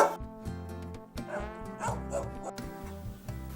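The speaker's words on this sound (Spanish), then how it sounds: "Y un perrete que no me deja grabar." A large wolf-like dog in a village of granaries in Bueño, Asturias, barks repeatedly in a steady rhythm, loud and close.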